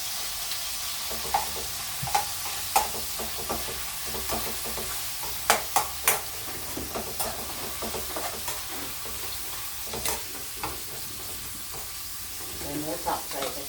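Minced pork stir-fries in oil in a pan for bitter melon with egg, with a steady sizzle beneath repeated sharp scrapes and clanks of a utensil, close and fairly loud, with no talking.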